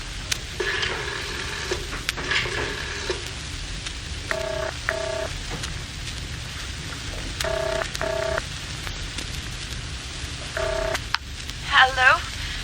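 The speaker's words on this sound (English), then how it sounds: "Excuse me while I use the house phone." A house telephone dialled in a vintage radio audio play, with several bursts of rapid dial-tone pulses spaced across the scene, followed by a ringing sound near the end, over a hissing background.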